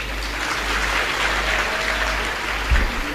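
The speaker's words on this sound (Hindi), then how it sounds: "दोस्ती पे जितने लोग दोस्ती करना जानते हैं जरा ताली बजा दीजिए।" A live stand-up comedy audience claps together, a dense even patter of applause that holds steady throughout, with a low thump near the end.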